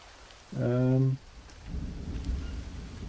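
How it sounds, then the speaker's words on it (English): Thunder rumbles low and long while rain patters steadily in the survival video game Green Hell, following a short loud tonal sound. "Sounds like thunder again."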